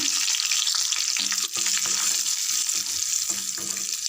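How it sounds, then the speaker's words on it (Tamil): Tempering spices with coriander and curry leaves crackle and sputter in hot oil, a dense close sizzle with scattered pops and faint clinks, steady throughout and without voices. "நம்ம இப்போ தாளிச்சிடலாம் ஃப்ரெண்ட்ஸ். நல்லா பொரிய ஆரம்பிச்சிடுது."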